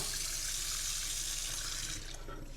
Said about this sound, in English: Okay, so now water, warm water, and just a dish scrubbing cloth